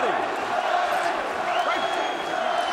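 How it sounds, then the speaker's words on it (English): Boxing match crowd in a packed arena, a steady roar of cheering and shouting rising behind a fight between John Duddy and Luis Ramon Campas, continuous and fairly loud with voices mixed in. "Now the crowd trying to get behind John Duddy."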